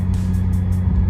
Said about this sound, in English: The car's driving fine right now